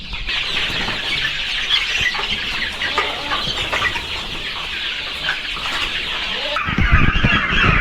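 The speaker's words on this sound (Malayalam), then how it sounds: "നമ്മളിപ്പോൾ ഈ കാണുന്നതെന്ന് വെച്ചാൽ ടർക്കിയുടെയും ഫാൻസി കോഴിയുടെയും ചിക്സുകളാണ്" Turkey and fancy chicken chicks about two months old on a poultry farm peep and cluck in a steady, busy chorus throughout, growing louder and rougher near the end.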